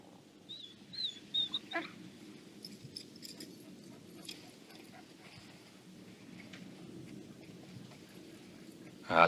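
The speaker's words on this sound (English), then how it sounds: "That's the kid's dog." A dog whimpers and whines in short high-pitched bursts near the start, faint against quiet low ambient rumble, followed by soft scuffling sounds and a brief louder noise at the end.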